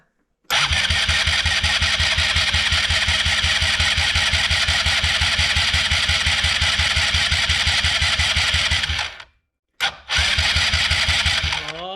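A Polaris RZR 170 engine cranks and catches, then runs with a fast, even pulse for several seconds. It cuts out briefly and fires up again, loud and close.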